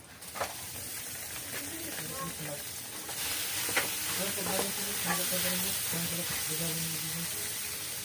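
Ground pork sizzles and crackles in a pan while being stirred, a continuous hiss that steps up louder partway through, with scraping and clinks over it.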